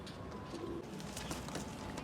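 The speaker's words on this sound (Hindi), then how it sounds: "ऐसी नस्ल का कबूतर है, लेकिन बड़ा कबूतर है" Malwai pigeons cooing outdoors, soft repeated coos and flutter-like rustles set against a steady background hiss, fairly faint and without talk.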